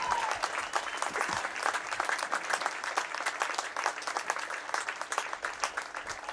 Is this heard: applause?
yes